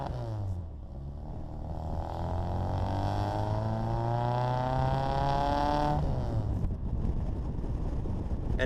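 A supercharged 1960s-style custom Austin-Healey Bugeye Sprite with an Abarth twin-tip muffler drives along, its engine droning steadily and rising in pitch as it accelerates, then dropping as it shifts and climbs again, heard from close by without talk.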